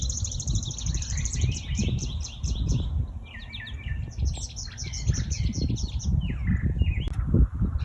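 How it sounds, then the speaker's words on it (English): Many birds sing at once outdoors, a dense overlapping chorus of chirps, trills and whistled phrases running throughout over a steady low rumble of background noise. "And here's a lot of them singing."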